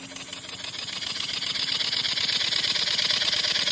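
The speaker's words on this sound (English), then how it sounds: "That's a really nice running little engine." A small model slip eccentric steam engine, about 16 inches high, runs steadily, giving a rapid, even chuffing and hissing rhythm that builds slightly in loudness and stays close, with no talk.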